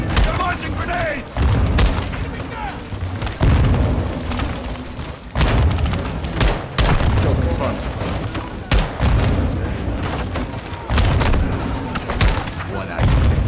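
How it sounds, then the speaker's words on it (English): Grenade explosions and gunfire in Modern Warfare 2, loud booms and bursts of shots arriving in repeated heavy blasts every second or two, with shouting voices mixed in. "Incoming! Take cover! They're launching grenades!"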